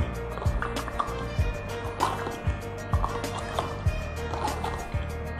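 Water with Kangen Water drops added is stirred in a glass, giving repeated light clinks and liquid swirls in a steady rhythm, quiet and close, with no talk.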